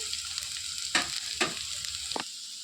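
Capsicum, potato, carrot and tomato pieces frying in a pan, a steady broadband sizzle with three sharp stirring scrapes spaced through it, close and fairly quiet, no talking.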